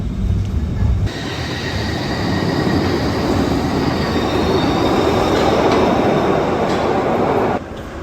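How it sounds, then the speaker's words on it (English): A Glasgow Subway train arriving at a station, with a loud, steady rumble and a thin wheel squeal held under it for several seconds before the noise drops off near the end. "My train is approaching."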